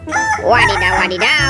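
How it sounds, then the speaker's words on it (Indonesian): A toy rooster gives an electronic cock-a-doodle-doo crow that rises and falls for over a second, loud and close, with a voice speaking short exclamations over it. "ini ada ayam berkokok"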